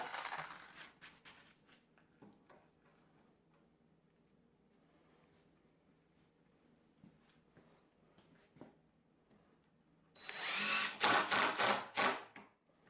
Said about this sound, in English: Here I drill into the frame to allow a spot for the bolt